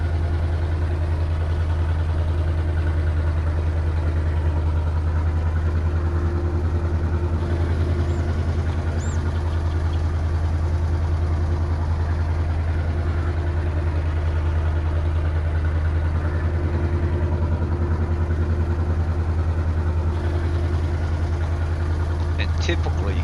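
A tractor engine idles in Farming Simulator 22, giving a steady, loud, low rumble that holds unchanged from start to end.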